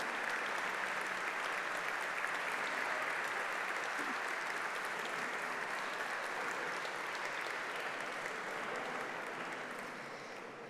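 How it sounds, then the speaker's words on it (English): A gala audience at the 20th AUTOBEST Awards in Barcelona applauds the jury members, a dense, continuous wash of clapping from a large room that holds steady, then eases slightly toward the end. "please give a very warm round of applause to all AUTOBEST jury members present tonight in Barcelona"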